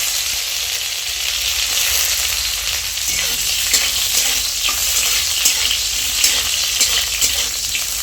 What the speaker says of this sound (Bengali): কলাগুলোকে ভেজে নেব।